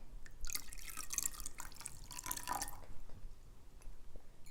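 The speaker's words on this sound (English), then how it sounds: "Now you'll pour the borax water in with the slime." Borax water poured into homemade water slime: a short wet, dripping splash with gurgling bursts in the first few seconds, then quieter liquid sounds, close and alone without talk.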